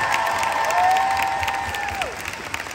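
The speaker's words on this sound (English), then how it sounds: "please give a warm round of applause for our special guests here" Applause and cheering from an audience at a musical convention show for special guests, a dense crowd sound with a whistle-like tone sliding across it.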